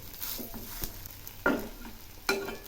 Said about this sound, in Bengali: আর একটু নাড়াচাড়া করব